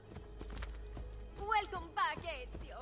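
Horse hooves clip-clop at a steady walking pace in Assassin's Creed Brotherhood, with close, regular hoof strikes, followed by several voices speaking over the continuing hoofbeats.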